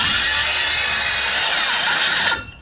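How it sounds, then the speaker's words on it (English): A power saw runs loud and close as it cuts through wooden blocking along a wall stud, a harsh continuous buzzing rasp that stops abruptly at the end. "set your saw up just like this,"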